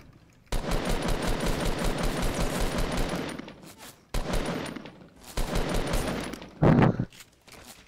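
Rapid bursts of automatic gunfire in a shooter video game, loud and close, as a two-player team fires from behind; the shooting comes in long sustained volleys broken by brief pauses, with a heavier blast near the end.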